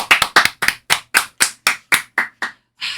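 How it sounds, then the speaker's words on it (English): About a dozen distinct, close hand claps from a small group, loud and slightly uneven in rhythm, followed by a brief burst of claps after a short pause. "Round of applause."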